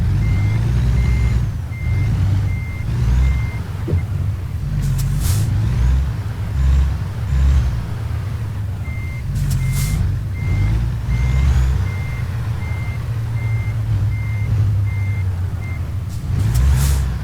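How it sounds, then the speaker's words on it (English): Repeated electronic reversing beeps from a truck in American Truck Simulator, steady pulses sounding in bursts over a continuous low engine rumble, with occasional hissing air-brake releases. "I'm very slowly moving the truck over."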